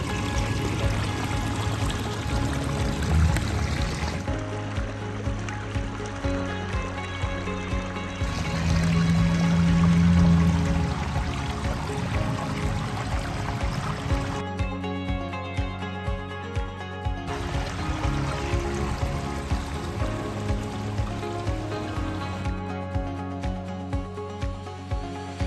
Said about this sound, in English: that's a beautiful little pondless waterfall